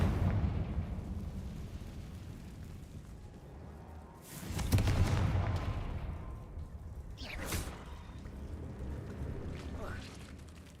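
A Confringo fire spell explodes in the Hogwarts Legacy video game, with a booming whooshing blast midway and another burst later over a rumbling game background, a voice speaking at times.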